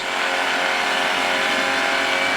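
A paramotor engine roars steadily and loudly close by as it accelerates on a runway takeoff run, a dense droning buzz with a tonal whine that fills the whole moment.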